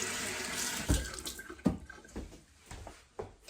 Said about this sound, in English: because I've touched raw eggs, I'm going to go ahead and wash my hands.